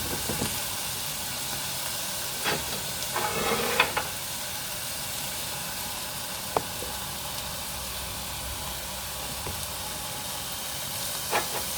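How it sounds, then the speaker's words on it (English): Onions fry in a pan for sweet and sour chicken, giving a soft, continuous sizzle and hiss with a few faint clinks of utensils, close and fairly quiet. "Whilst the onions are frying off"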